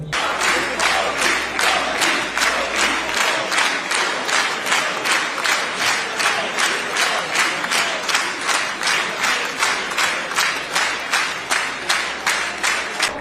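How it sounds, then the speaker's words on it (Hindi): Israeli parliament members applaud Modi in a strong, rhythmic unison clap, about two beats per second, sustained loudly and evenly throughout with little talk. "तालियां बजा भी रहे थे इजरायली पार्लियामेंट के मेंबरान, और मोदी के नारे भी लगा रहे थे"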